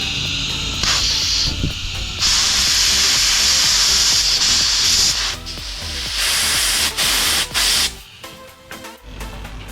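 A cleaned fuel injector from a 1995 Mitsubishi Pajero Mini Turbo sprays on continuous pulse, giving loud sustained hissing bursts that start, stop and restart several times, with mechanical clicks and rubbing between bursts.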